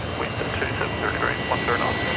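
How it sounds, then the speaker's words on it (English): A Fokker airliner's engines run at power on the ground at Brisbane Airport, a steady broad roar heard from a distance, with a voice talking faintly underneath. "Listen to that Fokker on the power down there, right in front of me."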